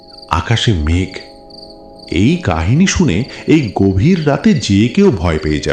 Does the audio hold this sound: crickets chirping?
yes